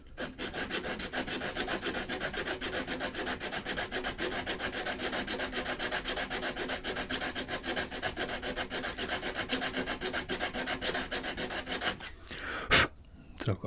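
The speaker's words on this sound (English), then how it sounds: "I'm going to use a block with a bit of sandpaper. So I sand the point off first." Sandpaper wrapped on a block rubs back and forth over a wooden edge of a hospital bed in steady, quick rasping strokes, close and continuous, ending with a few louder scrapes.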